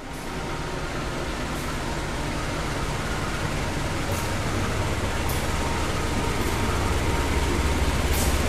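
Kamandaka passenger train arriving at a station platform on track 4, a steady loud rolling rumble that builds slightly over time, with faint periodic clanks above the continuous wheel noise.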